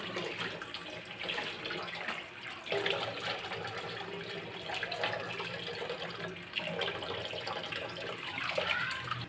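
Running tap water splashes steadily into a sink while food is rinsed, a continuous broadband wash with small surges, fairly close and without talk.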